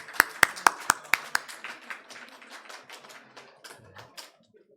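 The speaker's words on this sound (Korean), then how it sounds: "우리 옆에 있는 형제자매들 서로 박수 치면서 제가 말씀 전하면 좋겠습니다" A church congregation at a weekday service claps: a handful of sharp, evenly spaced claps up front, then scattered, fading applause that trails off into quiet.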